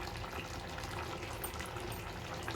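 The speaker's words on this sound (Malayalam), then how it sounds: "ഇത് കണ്ടോ വെള്ളം നന്നായി തിളച്ച് വരുന്നുണ്ട്" Kerala-style chicken curry with curry leaves and coriander bubbles steadily in a pot, a soft, continuous simmering hiss and burble at low volume.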